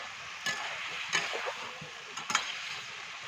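Powdered spice masala sautés with plantain in a pan, giving a soft steady sizzle broken by a few brief scraping stirs.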